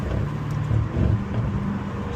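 A Mercedes E63s with a stage 2 tuned 800 hp engine gives a loud, deep, rumbling rev with low throbbing pulses, heard up close with no talking.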